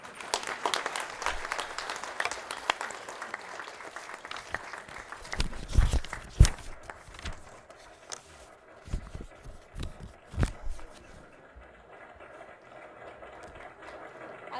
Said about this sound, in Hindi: I request all of my colleagues to give a big clap.